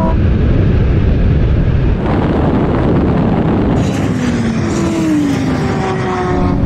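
Ferrari 488 Pista, Lamborghini STO and Porsche 911 GT3 in a straight-line drag race, a loud roaring engine surge under hard acceleration with rising whining gear tones toward the end, no talking.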